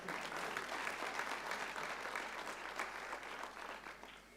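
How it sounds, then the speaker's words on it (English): An audience at a national orders ceremony with the South African president gives sustained applause, a dense, even roar of many hands that carries on for several seconds and slowly fades toward the end. "Can we please give him a hand of applause?"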